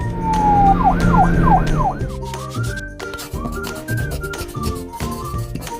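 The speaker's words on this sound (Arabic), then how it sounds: "بوليس كار سيارة شرطة" A police car siren wails in a brief rising tone, then warbles rapidly in quick yelping cycles, loud and close, before a light melodic tune takes over.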